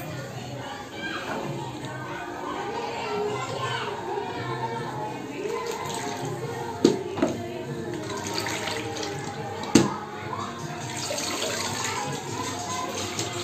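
A mop is rinsed in a bucket of water, giving continuous close sloshing and swishing with two sharper splashes partway through.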